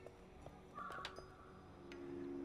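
A bird caws in the video game Broken Age, a few short rasping calls over a steady, busy game soundtrack at moderate volume.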